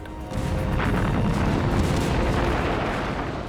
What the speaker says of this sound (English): Tanks led the way, grinding over the rubble and firing point blank into courtyards.